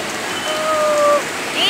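Heavy rain pouring onto a balcony and splashing, a loud, steady, dense hiss that continues through the short moment.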